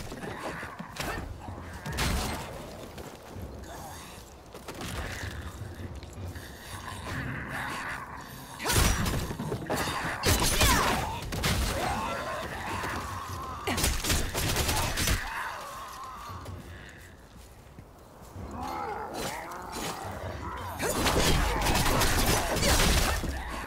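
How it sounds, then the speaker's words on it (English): Powder keg explosion in the video game Lost Ark, set off amid combat with demon-controlled monsters; repeated loud bursts and crashing blasts punctuate continuous battle noise with whooshes and mechanical clatter. "Oh good! Caught in the explosion."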